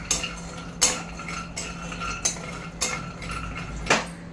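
Cashews and almonds dry roasting in a pan over low heat, a spatula scraping and clinking against the metal in irregular strokes roughly every half second to second, close and alone.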